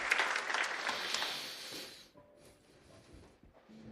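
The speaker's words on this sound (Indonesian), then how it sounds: "Boleh tepuk tangan" Congregation applause during a church sermon: dense, fairly loud clapping for about two seconds, then thinning out into a few scattered claps and faint room sounds.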